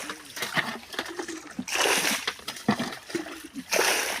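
Fish splash and thrash in the shallow water left in a half-drained pond, several bursts of splashing coming close by amid faint background talk.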